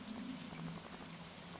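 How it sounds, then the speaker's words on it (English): Rain falls steadily in the video game Stardew Valley, a faint, even hiss of drops with no other sounds. "It's raining"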